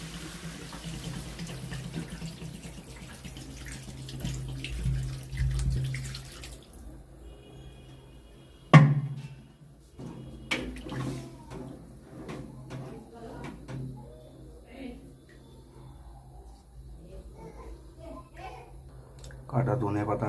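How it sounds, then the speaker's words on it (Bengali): Water is poured into a cooking pot of boiled peas and potatoes, a steady rushing pour for several seconds, followed by a clatter and quieter kitchen sounds. "জল দিয়ে দেবো।"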